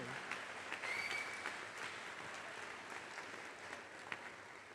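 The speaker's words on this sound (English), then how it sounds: "give your senators a big round of applause" A large audience at a state legislative general assembly gives sustained, even applause for senators, steady and moderately distant, with no voice over it.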